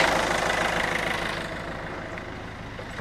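A 20-year-old Peugeot 206cc engine idling nearby, a steady rumbling drone that holds constant and eases slightly quieter over a few seconds, with no talking.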